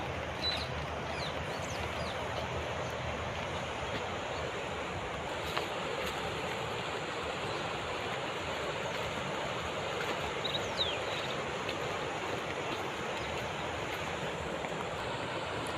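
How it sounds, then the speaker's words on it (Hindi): The fast current of the Narmada river, shallow here, makes a steady broadband rushing wash that stays constant and fairly soft throughout, with faint wind and no voices. "यहाँ पर जल का बहाव तेज़ है।"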